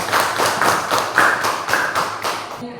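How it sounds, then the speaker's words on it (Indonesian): A classroom claps for a classmate during an Islamic education teaching practice session, a brief burst of rhythmic, evenly paced group clapping that ends abruptly. "kasih aplaus untuk teman kita yang sudah menilai"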